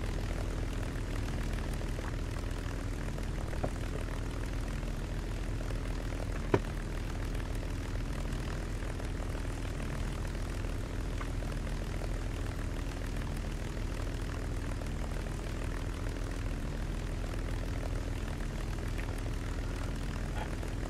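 Aircraft engine drone from War Thunder flight combat, a steady propeller-like hum that holds at an even, moderately loud level throughout, with one brief sharp click partway through and no talking.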